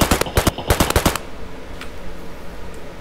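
An unsuppressed AK-103 rifle in the game Escape from Tarkov fires a rapid automatic burst of loud, sharp shots lasting about a second, followed by a fading echoing tail.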